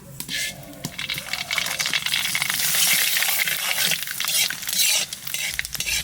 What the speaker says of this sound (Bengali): তেলের পাত দিয়ে দেবো সরষে আর শুকনো লঙ্কা।